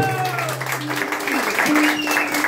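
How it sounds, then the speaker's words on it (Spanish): Audience at a mariachi birthday performance applauds briefly and steadily while a voice speaks over it and a sustained musical tone lingers in the background. "Y ese aplauso muy bonito"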